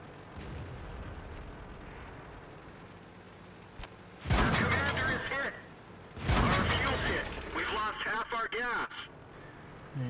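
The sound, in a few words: tank gunfire shots in the video game World of Tanks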